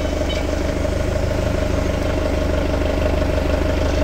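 A truck loaded with cement idles nearby with a steady, rhythmic diesel throb and a low rumble, loud and constant throughout, with no voices.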